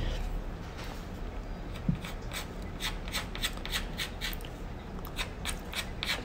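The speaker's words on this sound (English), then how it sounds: "Notice that the sharpened chalk is really very fine, so I can create really thin lines without being too hard on the board." Sharpened, very fine chalk strokes thin lines across a chalkboard in soft, repeated scratchy rubs, faint and close, with no voices.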